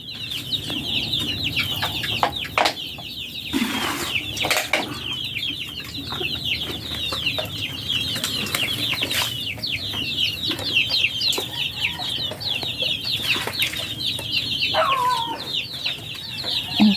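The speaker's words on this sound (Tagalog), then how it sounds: "Nagpakain na siya ng mga alagang manok." Pet chickens clucking busily while being fed, a dense chorus of close, overlapping clucks with occasional wing flaps and knocks, and faint background sounds.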